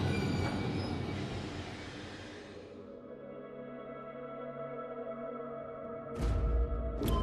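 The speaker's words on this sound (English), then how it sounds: "Stopping the train." A train in the horror video game Post Trauma brakes to a halt, with a loud rumbling roll, high wheel squeal fading over about three seconds, then a low idle hum and two sharp clunks near the end.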